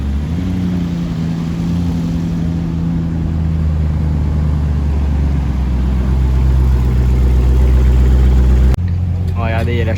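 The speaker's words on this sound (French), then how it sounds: "il y a la Chiron noire et blanche qui vient d'arriver avec le 6-6 évidemment" A Bugatti Chiron and a Mercedes G63 6x6 arrive as a convoy on a Paris street, their engines rumbling low and building louder. A sharp cut near the end is followed by someone talking.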